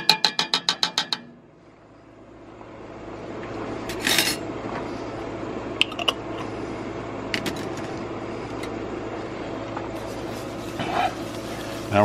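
A heaping tablespoon of Grey Poupon mustard is stirred into a beer cheese mixture: steady scraping and clinking of a utensil in a bowl, preceded by a quick run of sharp taps near the start.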